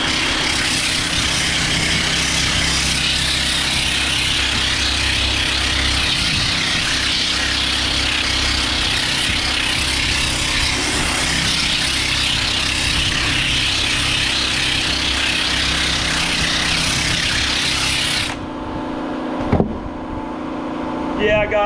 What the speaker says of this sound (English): This is just a little 4-inch brass wheel I got at Lowe's this morning on a DeWalt 20 volt